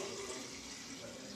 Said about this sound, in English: So we're going to fill this up with a quart of water.